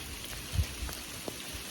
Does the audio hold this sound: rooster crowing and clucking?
no